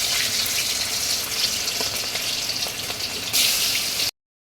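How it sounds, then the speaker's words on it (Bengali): Fish frying in hot oil in a wok, a loud, dense hiss and sizzle that holds steady, swells briefly near the end, then stops abruptly. "আমি এখন মাছগুলি ভেজে নেব"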